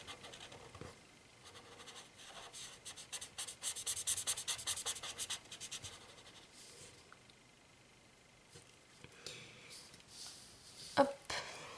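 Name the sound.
felt-tip marker coloring a drawing of shoes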